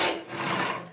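A hand saw rasps steadily through an 8-inch-wide walnut board during resawing, a loud, continuous gritty stroke that swells and eases over about a second with no talking.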